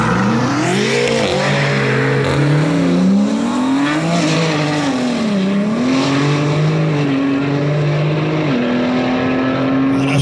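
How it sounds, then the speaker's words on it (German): Two BMWs, an M5 and an M4, launch side by side on a drag strip, their engines roaring loudly as they climb through the gears with rising and falling revs over steady noise. "BMW M5 gegen BMW M4"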